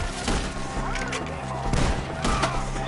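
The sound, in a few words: gunfire in a PS4 shooting video game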